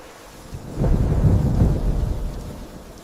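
Thunder rumbles in a cartoon storm with heavy torrential rain in a forest, a low rolling roar that swells in the middle and hisses steadily beneath, with no voices.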